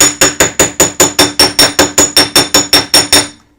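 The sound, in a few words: hammering wire solder flat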